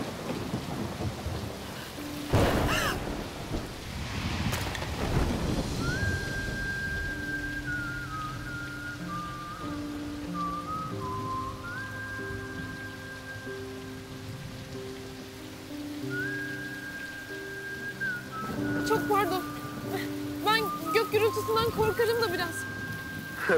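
Rain falls steadily in a Turkish TV drama scene, with loud cracks and rumbles of thunder near the start and again near the end. Sustained musical tones play over the rain between the thunderclaps.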